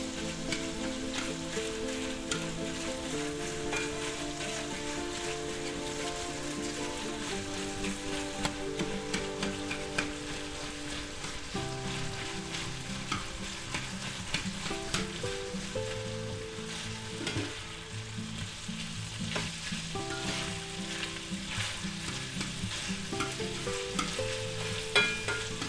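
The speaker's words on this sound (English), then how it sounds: "Alright, now fry this up" Sausage frying in a pan and being broken up into small bits, a steady close sizzle with light stirring under background music.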